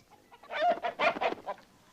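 A chicken clucks in a quick run of nasal calls, close and fairly loud, with no talking over it.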